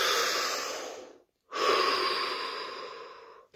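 A deep breath is drawn slowly in through the nose and then released in a long exhale, after a short pause, close and clear with no talking.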